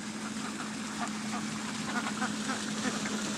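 Ducks and geese quack and honk around a fountain at a resort park in Unaizah, Saudi Arabia, with soft, scattered calls over steady water noise and a low hum.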